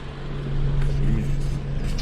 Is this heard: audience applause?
no